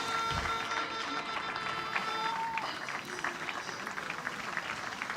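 Spectators in a regatta grandstand at an under-19 European rowing championship in Brandenburg, Germany, clap in steady, dense applause with a crowd murmur, heard from a distance over a continuous background roar.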